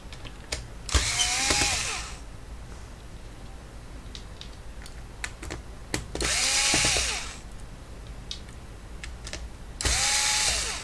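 An electric screwdriver with a Phillips bit, set to minimum torque, backs screws out of a laptop in three separate whirring bursts of about a second each, with quiet handling clicks between them.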